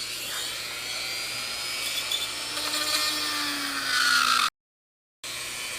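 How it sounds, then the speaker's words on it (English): Dremel rotary tool cutting an access hole, likely in an RC car body for Castle Mamba Max Pro waterproofing, gives a close, continuous high-pitched whine that rises as it bites, then cuts off abruptly. "then we're going to take a trusty Dremel. Now I got a little access hole started."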